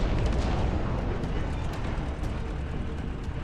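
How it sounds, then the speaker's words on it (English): Siege howitzer artillery firing in the Dustfront RTS video game, a dense, continuous roar of booming cannon blasts and rumbling explosions that stays loud throughout with no talk over it. "Let's change it out to be siege howitzers."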